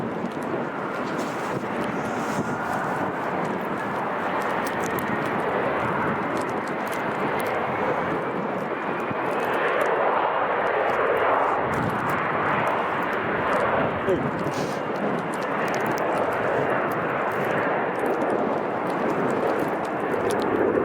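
An airliner at Chicago O'Hare airport gives a broad, sustained jet roar lasting the whole stretch, rising slightly midway, with wind buffeting the microphone.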